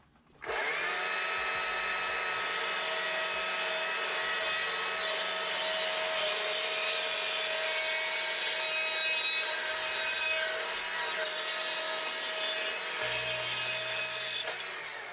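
Chainsaw carving into wood to thin the stem of a sunflower sculpture, a loud, steady engine whine held at constant revs for about fourteen seconds, close up and with no talking.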